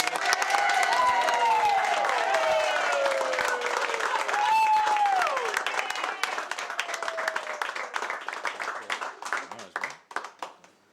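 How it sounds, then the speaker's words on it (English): A large audience applauds and cheers for Dave, a champion, with dense sustained clapping and whooping voices that gradually thin out toward the end. "So everyone just give Dave a big round of applause."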